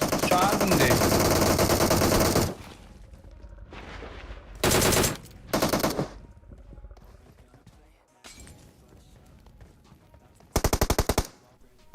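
Gunfire in the mobile battle royale game PUBG Mobile: long loud bursts of automatic fire, then shorter rapid volleys separated by quieter gaps, with a voice talking faintly underneath.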